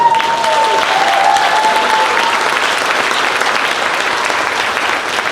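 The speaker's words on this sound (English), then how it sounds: "That's a round of applause" Crowd applause at a school district convocation, a dense, steady wash of clapping throughout, with a brief voice or tone faintly audible at the start.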